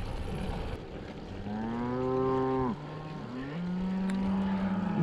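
Cows moo loudly beside a road, one long drawn-out low call followed by a second rising, sustained moo, with a steady outdoor rumble underneath and no talking.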